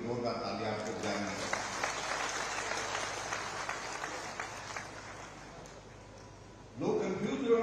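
Applause from a rally audience in Una, Himachal Pradesh, during a chief minister's address: a broad, steady wash of clapping carries on for several seconds, easing slightly before a louder burst near the end.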